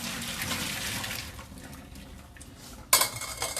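Cooked gnocchi and its boiling water pour through a kitchen strainer with a rushing splash that fades to a trickle, followed by a sudden metallic clank of the pot and strainer.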